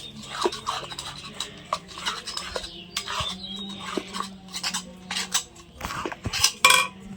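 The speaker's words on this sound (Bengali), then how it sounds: "এখন লবণটা মিশিয়ে নেব সাবুর সাথে।" Salt is mixed into sago in a bowl with a spoon, giving close, irregular scraping and clinking strokes in bursts, with a sharper metallic knock near the end.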